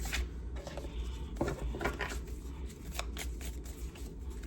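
Tarot cards shuffled by hand, a rapid papery riffling and flicking in quick bursts, close and fairly quiet, with no voices.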